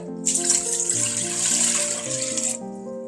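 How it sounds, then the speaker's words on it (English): Water pours steadily into a metal pot for a couple of seconds, a bright splashing rush over a soft background tone, then stops. "Pour in 4 cups of water."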